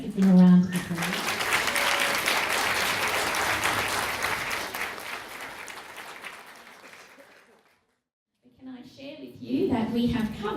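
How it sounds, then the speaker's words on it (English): An audience at an International Women's Day panel Q&A applauds, a loud sustained round of clapping that fades out into silence before voices pick up again. "Please give them a round of applause."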